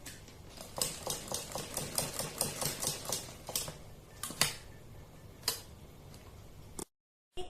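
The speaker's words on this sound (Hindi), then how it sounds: "बिल्कुल गले के किनारे किनारे पर चारों तरफ हम सिलाई लगाते चले जाएंगे इस तरह से" A sewing machine stitches a fabric strip along the edge of a boat neckline, running in quick, close ticking bursts with brief pauses, then stopping abruptly near the end; no one speaks.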